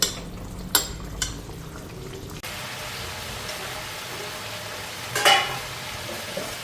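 Cumin and bay leaf tempering crackling in hot oil for a fish curry with potatoes, a continuous close frying hiss with a few sharp stirring clicks and scrapes, no talking.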